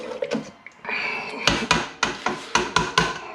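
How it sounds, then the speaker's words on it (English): A spoon scrapes and knocks against a metal pot while catfish stew is stirred to the bottom, making a series of sharp clanks that grow more regular toward the end, close up with no talk. "Stir it all the way to the bottom."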